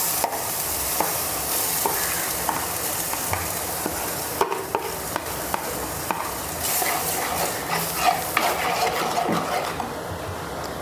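Ground paste for a Kerala-style sardine curry sizzles in a clay pot, a continuous loud frying hiss broken by scattered clicks and scrapes of stirring.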